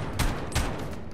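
Gunfire in Call of Duty Modern Warfare on PS4: two loud bursts of shots about a third of a second apart, each with a low punchy thump over a steady noisy background.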